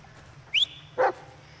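A dog in the Blair Witch video game gives two short barks, the first a rising yelp and the second a fuller bark, heard close with a quiet game background and no talking.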